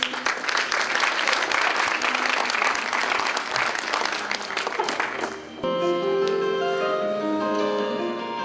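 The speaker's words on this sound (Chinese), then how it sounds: "先给他们三位这个掌声一下。" A large audience at a teacher's retirement tribute gives warm, sustained applause for several seconds, then it cuts to quieter sound with tonal, musical content.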